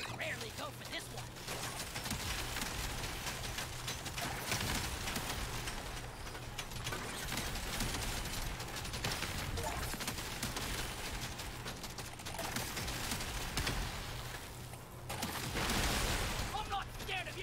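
Weapon fire in the Deep Rock Galactic Survivor video game, a dense, continuous stream of rapid shots and crashing impacts with steady game noise throughout, no speech over it.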